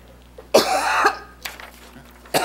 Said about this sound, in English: it's a chronic cough,